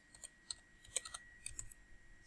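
Computer keyboard keys pressed in a quick, irregular series of light clicks while tabbing through a document leaflet, close and fairly quiet, with no voices.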